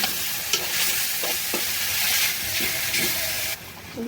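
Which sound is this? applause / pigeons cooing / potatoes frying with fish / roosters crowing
potatoes frying with fish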